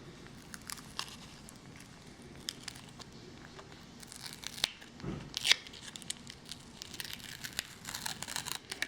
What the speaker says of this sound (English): then I start slowly peeling it away carefully.